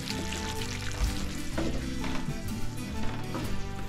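A spoon scrapes and churns through a thick tater tot casserole mixture, a dense, continuous stirring texture up close with a low hum underneath and no talk.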